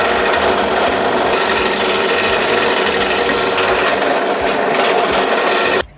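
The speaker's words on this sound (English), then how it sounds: "we use the world's worst pillar drill" Pillar drill boring into wood with a Forstner bit, a loud continuous grinding, rasping whir that holds steady for several seconds before cutting off abruptly at the end.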